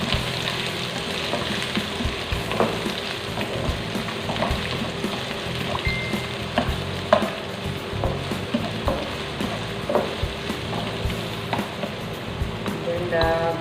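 Chopped onion sizzles steadily in a hot oiled pan for a potato and cauliflower curry, a dense continuous frying hiss with scattered crackles and occasional clinks, close and fairly loud throughout.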